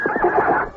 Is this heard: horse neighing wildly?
yes